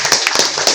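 Brief burst of hand clapping from a small crowd at a ceremony honouring island fishermen, close and fairly loud, a quick patter of overlapping claps.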